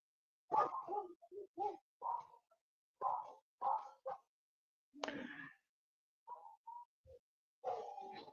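Several short barks and yips come in separated bursts, moderately close, with quiet gaps between them; no talking.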